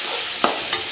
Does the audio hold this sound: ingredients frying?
yes